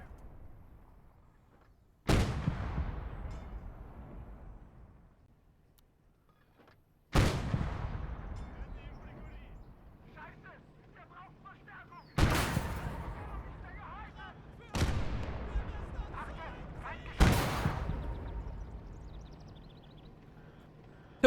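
Heavy guns in the Gates of Hell war game boom five times, each a loud sharp blast trailing into a long rumbling decay, spaced several seconds apart, with a voice talking faintly between.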